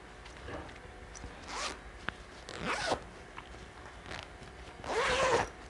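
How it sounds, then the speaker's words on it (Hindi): A zipper on a saree storage bag is pulled open in several separate short zips, close and crisp, with quiet handling between strokes and a longer, louder pull near the end; no one speaks. "चेन भी सबकी अच्छी है।"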